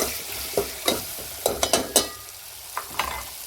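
Chopped tomatoes frying in oil, a soft sizzle under a series of quick spatula scrapes and taps against the pan, close and fairly loud, no voices.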